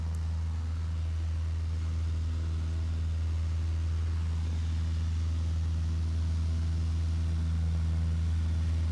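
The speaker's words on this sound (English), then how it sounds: "taking off on runway 14 again." Steady low engine drone of a light training aircraft taking off from runway 14 at Le Touquet, heard from inside the cabin as a constant loud hum with no talk.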